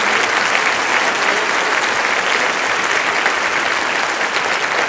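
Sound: audience applause for schoolchildren

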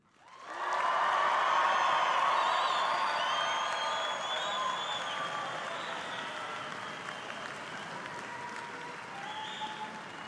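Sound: audience cheering and applauding at a graduation

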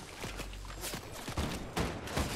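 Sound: gunshots in a video game

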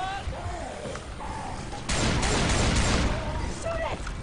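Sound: gunfire in video game Left 4 Dead 2

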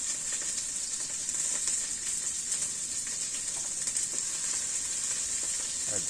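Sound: chili, garlic and onion frying in oil

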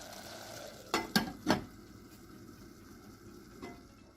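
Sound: mushrooms sautéing in a pan

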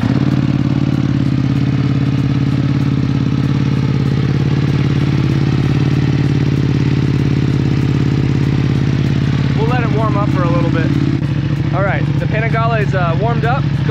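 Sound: BMW M1000R motorcycle starting up and idling

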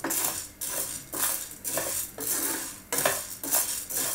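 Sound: dry-roasting sabudana (sago pearls) in a hot pan

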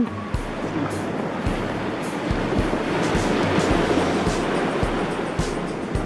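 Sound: beach waves

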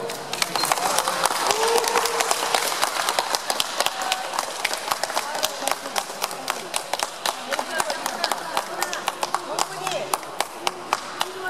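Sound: audience applause at election result

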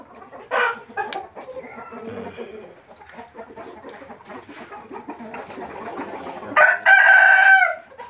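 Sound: chickens clucking and rooster crowing

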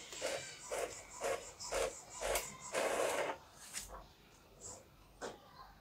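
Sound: Epson L1210 inkjet printer printing an A4 page

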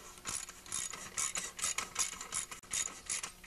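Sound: ratchet loosening long bolts on Tecumseh snowblower engine

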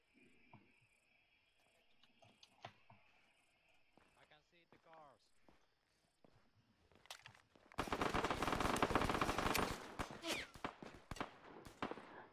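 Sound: machine gun fire in the modded Arma 3 video game

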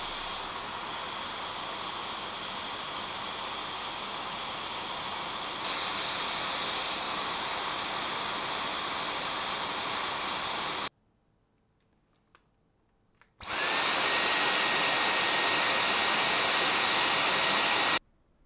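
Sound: cordless vacuum cleaner running in boost mode

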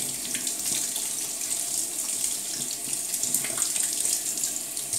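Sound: tap water rinsing a new brush

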